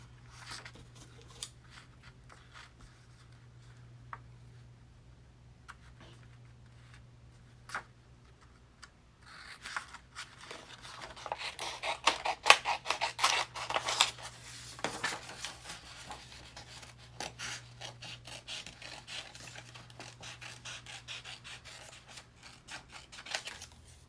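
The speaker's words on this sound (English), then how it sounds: "Have to cut a big triangle." Scissors snip through a large sheet of paper to cut out a big triangle for a junk journal page, a soft crunching and rubbing of blades that grows busier and louder partway through, close by and with no talking.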